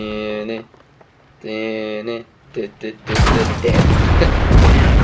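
A 122mm tank shell strikes the player's own KV-3 or IS-2 tank in World of Tanks, a loud sudden crash with a sustained rumbling roar after earlier tonal droning sounds.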